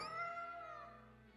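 A cat meows in the video game Tales of Berseria, one drawn-out, wavering call with rising and falling pitch, fairly close and clear, with game background sound underneath and no talking.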